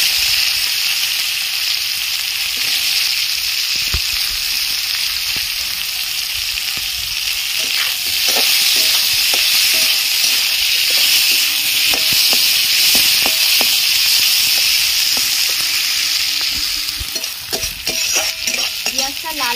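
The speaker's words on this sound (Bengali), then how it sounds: "বিরিয়ানিতে দেওয়ার জন্য পেঁয়াজগুলো আমি ভেজে নিচ্ছি।" Onions sizzle and crackle steadily as they fry in hot oil for chicken biryani, with occasional stirring clinks of a utensil against the pan, close and continuous with no talking.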